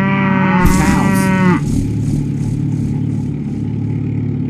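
A single loud, drawn-out cow moo, close by, fading into a low engine hum.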